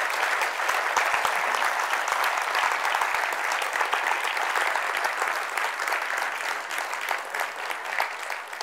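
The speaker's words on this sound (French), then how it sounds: "Je pense qu'on peut de nouveau applaudir l'amiral Rogel." Sustained audience applause following a talk by an admiral on strategic issues: steady, dense clapping from a sizeable crowd lasting the whole stretch, with no talk over it.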